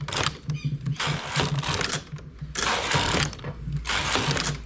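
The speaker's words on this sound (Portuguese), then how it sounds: "E agora é só tecer lentamente, fazendo o trabalho." A flatbed knitting machine works slowly as its carriage is pushed back and forth over the needle bed, making a rhythmic mechanical clatter and whir in several long passes, loud and close with brief pauses between strokes.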